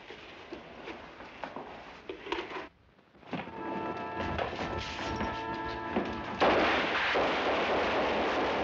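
Gunfire in a 1951 Korean War film scene: loud, harsh bursts of shots and crashing noise, a brief near-silent gap, then dense sustained firing that swells louder toward the end, with no speech.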